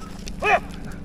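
A single short dog bark, moderately close and fairly loud, rising over steady low background rumble on a rural roadside.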